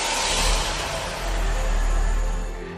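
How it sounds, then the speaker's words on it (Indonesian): A Wuling Cortez EX car engine starts remotely to warm up, running loud and steady close by, the engine note rising slightly and then holding at an even idle with no voices. "kita dapat menyalakan mesin mobil untuk memanaskan mesin mobilnya terlebih dahulu"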